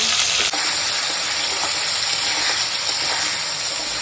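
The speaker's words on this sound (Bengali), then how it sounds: "এইবারে আলুগুলোকে সুন্দর করে ভেজে নেব।" Potatoes cut into large pieces, seasoned with turmeric and salt, fry in a pan with a steady, loud, close sizzle that runs unbroken throughout, with a brief dip near the start.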